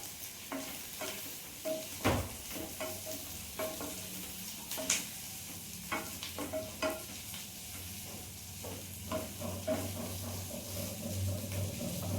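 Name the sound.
boiled potatoes and onions frying in a pan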